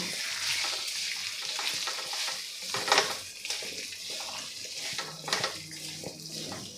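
Okra and potato bhaji is stirred in a pan with coriander powder, Kashmiri red chilli and salt, giving a steady close sizzle with scraping spoon strokes and a couple of sharper clacks.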